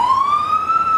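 An ambulance siren passes close by, one loud sustained wail that slides slightly upward in pitch, with faint road noise underneath.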